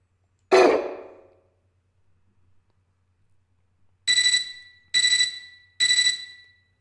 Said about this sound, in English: I woke up to a ringing sound like an alarm clock